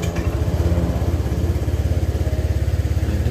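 A Honda Vario 125 scooter engine runs close and loud with a rough, uneven sputtering idle that stumbles when throttled, chugging irregularly with no talk over it.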